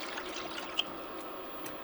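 Water pours into a pot heating on a stove while rice pudding is being made. A soft, continuous trickle and splash holds at an even level with one brief clink partway through, and no voices.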